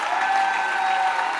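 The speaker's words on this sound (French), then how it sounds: "tu fais bien d'applaudir." A church congregation applauds during a Sunday service, a steady, even wash of many hands clapping together, moderately loud and with no voices over it.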